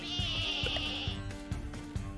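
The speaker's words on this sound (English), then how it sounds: "We need to herd 4 sheep." A sheep bleats once in the video game Lumberhill, a clear wavering cry lasting about a second over rhythmic thumping game music.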